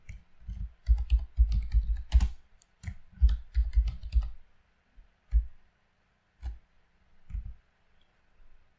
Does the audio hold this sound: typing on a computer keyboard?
yes